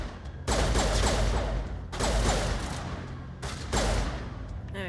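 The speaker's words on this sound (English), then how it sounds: "Guess I have to shoot you in the head." Three sustained bursts of rapid automatic gunfire in the video game Mass Effect, loud and dense, with only brief gaps between volleys.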